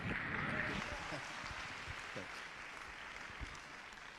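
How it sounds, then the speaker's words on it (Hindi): Church congregation applauding, a dense wash of clapping that fades slightly over a few seconds, with voices mixed in beneath. "जोरदार तालियां।"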